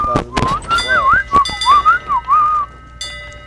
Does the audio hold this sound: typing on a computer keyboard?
no